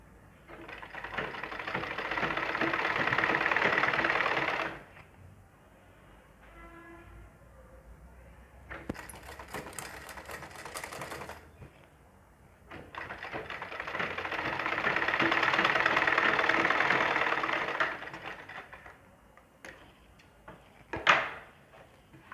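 A sewing machine stitches thin piping onto the sleeve of a ladies suit in two long, steady motor-driven runs. A quieter pause with faint handling noises separates them, and no one speaks.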